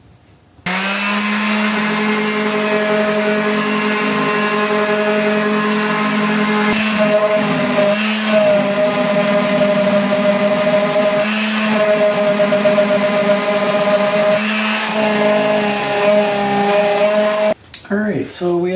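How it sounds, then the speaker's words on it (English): A power sander smooths uneven spots and overhanging edges on a wooden slide-out pot rack. A loud, steady motor drone hums nearby for the whole stretch, with slight wavers in pitch, then cuts off at the end. "then we can just sand the slightly uneven spots and the overhanging here."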